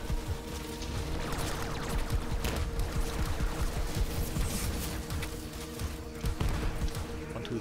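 Maliwan shotgun shots in Borderlands 3, fired in a rapid, steady stream of punchy blasts over a dense layer of combat noise and game music.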